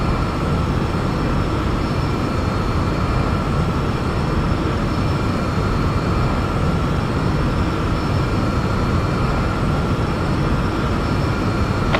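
Steady, loud cabin drone of a Boeing 737 in flight in the X-Plane 11 simulator, a constant broadband engine roar with faint tonal whine, unchanging from start to end, no voices.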